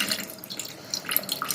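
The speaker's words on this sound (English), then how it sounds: "squeeze out the remaining rancid acidic water" Whey drips and trickles from a cloth of homemade cottage cheese (paneer) being squeezed by hand, a soft, close, irregular patter of small splashes.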